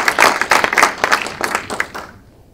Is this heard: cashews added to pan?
no